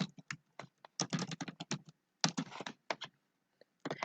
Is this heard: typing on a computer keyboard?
yes